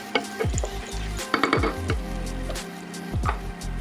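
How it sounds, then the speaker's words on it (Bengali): Stirring and frying in ghee with sugar in a pan for a chhana kofta curry: close metallic scrapes and clinks of a spoon over a continuous sizzle, in an uneven rhythm. "এরপর দিয়ে দেবো 1 কাপ ঘি আর 1 চামচ চিনি দিয়ে ভালো করে কষিয়ে দেবো"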